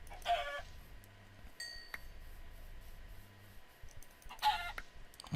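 A chicken in a video game clucks in a few short, faint bursts over a low background with soft clicks, with no talk.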